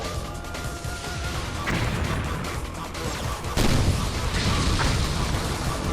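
Blasts and crashing bursts from an enemy exploding in Ninja Gaiden II Black, loud dense impacts layered over game noise, with a big burst hitting midway and the chaos continuing after.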